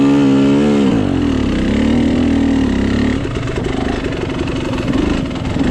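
A KTM 300 XC-W two-stroke dirt bike engine loud and close throughout a muddy hare scramble race, revving and then lugging in a steady uneven chug as it crawls through the mud, with no talking.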